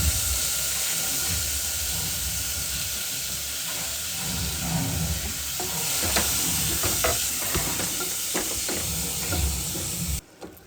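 Oregano frying in hot oil in a pan, a steady close sizzle and hiss with occasional stirring scrapes and pops, ending abruptly.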